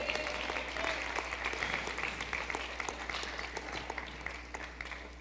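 A church congregation applauding during a sermon, a steady wash of clapping heard at a moderate distance over a constant low hum.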